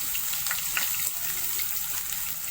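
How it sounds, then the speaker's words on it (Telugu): Onion paste frying in oil with mustard seeds and cumin for a Telugu stuffed eggplant curry, giving a steady, close, even sizzle with faint crackles throughout, no talking. "మీడియం ఫ్లేమ్లో దీన్ని మంచిగా ఫ్రై అవ్వనివ్వాలి"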